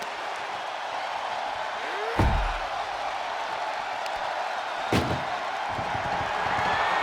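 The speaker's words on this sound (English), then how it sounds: "Trying to force the first door. First door shut." Two heavy slams from a WWE 2K25 Close the Door match, a door being forced shut in the game, ring out about three seconds apart over a steady roar of arena crowd noise.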